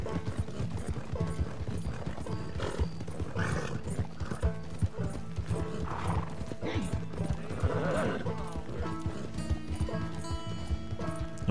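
Rhythmic hoofbeats of a galloping horse in Red Dead Redemption 2 drive steadily along with occasional whinnies, set against layered game music.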